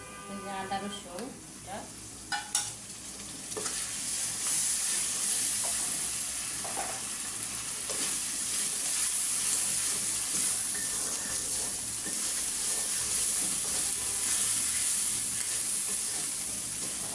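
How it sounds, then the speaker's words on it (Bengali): Ginger-garlic paste and spices frying in oil for a prawn and taro leaf dish. A few clinks and scrapes of stirring come first, then a loud, steady sizzle holds throughout, with no voices. "মশলা আমার ভালো করে কষানি আসছে, আমি তেলের মধ্যে ভাজা ভাজা করে নিলাম।"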